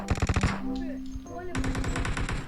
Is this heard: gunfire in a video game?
yes